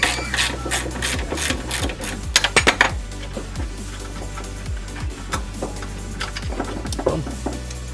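Loosening the last strut bolt on a Scion tC, heard as close, rapid bursts of metallic ratcheting clicks and clanks with brief pauses between, no voices over it.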